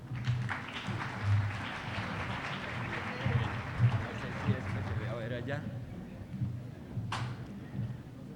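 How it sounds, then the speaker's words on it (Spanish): Audience applause at an international constitutional law congress, fairly thin and uneven clapping that fades toward the end, mixed with murmuring voices and shuffling, plus a sharp knock near the close. "Por favor, recibámoslo con un fuerte aplauso."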